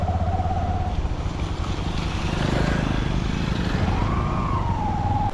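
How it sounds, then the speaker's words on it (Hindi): Off-road motorbike riding along a rough unpaved mountain track in Keran Valley, Kashmir: a loud, steady engine drone with rattling and bumping throughout, and a rising and falling whine near the end. "ऑफ रोडिंग बाइक चलानी पड़ रही है।"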